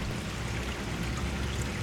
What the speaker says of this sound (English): That water then from this settling area and veggie filter goes out through a hole down here back into the pond.